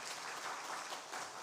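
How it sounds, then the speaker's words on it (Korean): A short burst of dense clapping from a church congregation during a Sunday service flower presentation, steady and fairly distant, with no voices standing out. "꽃다발 받을 때에 뜨거운 박수로 축하해 주시면 고맙겠습니다"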